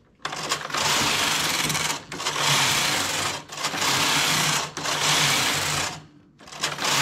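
A domestic knitting machine works up a lightweight cardigan, its carriage swept across the needle bed in repeated loud rasping passes of one to two seconds, separated by brief pauses, close and without speech.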